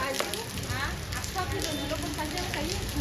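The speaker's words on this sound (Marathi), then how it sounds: "आता पाऊस चालू झाला जोरात." Heavy rain pouring down steadily in Goa, a dense continuous hiss of drops striking surfaces, loud and close, holding even from start to finish with no talk.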